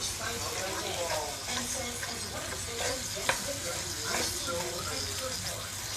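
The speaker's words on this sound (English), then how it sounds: "now we got our ground beef in our skillet" Ground beef fries in a skillet with a constant crackling sizzle and hiss while a utensil scrapes and stirs it around the pan, someone talking over the cooking.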